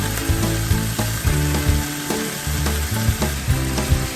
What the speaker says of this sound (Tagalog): You can fry it slightly until translucent, then you put the chicken.